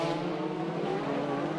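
A WTCC race car engine roars continuously in an on-board view during a race at the Macau street circuit, a steady loud drone with no pauses.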